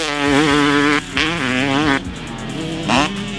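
A Yamaha YZ250 two-stroke dirt bike fitted with a Pro Circuit silencer with carbon fiber can and titanium piping revs loudly and close, its engine note rising and falling in several sharp blips.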